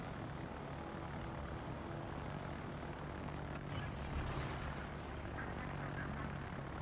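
Propeller fighter aircraft engines droning in World of Warships, a continuous buzzing hum at moderate distance with a slight swell midway, steady and unbroken with no clear voices.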